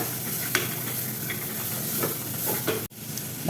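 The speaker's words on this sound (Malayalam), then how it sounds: "ബീൻസ് ചേർത്ത് കൊടുത്തിട്ട് നന്നായിട്ടൊന്ന് ഇളക്കി യോജിപ്പിച്ചെടുക്കുക" Black-eyed beans stirred into frying masala in a pan: a continuous steady sizzle with scattered scrapes and clicks from the stirring, close by, and one abrupt break near the end.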